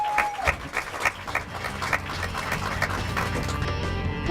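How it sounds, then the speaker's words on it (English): Crowd applause for the 2018 Guymon softball seniors at a Guymon vs Hooker game, loud sustained clapping from a stadium audience that swells in the first seconds and carries on steadily, with a faint tone at the start. "One more round of applause for our 2018 Guymon softball seniors."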